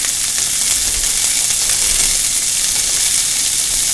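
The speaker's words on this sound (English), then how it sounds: "I'm going to take my Thai Braciole and we're going to sear it." Rolled braciole searing in hot olive oil in a pan, a loud, dense, unbroken sizzle heard up close with no voices over it.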